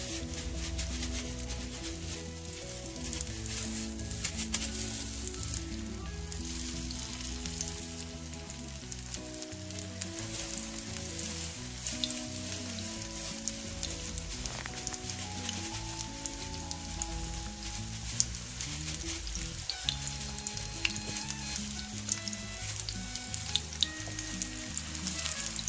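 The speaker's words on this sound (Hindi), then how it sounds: "मीडियम आंच पे फ्राई करेंगे ताकि अच्छी तरह से ये फ्राई हो जाए" Chicken chapli kababs fry in oil on medium heat, giving a continuous bubbling sizzle with fine pops and crackles throughout, fairly quiet and without speech.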